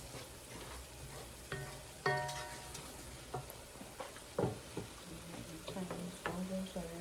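Salmon balls frying in a pan, a steady sizzle with scattered clinks and scrapes from stirring and turning, moderately close and continuous, with faint voices now and then.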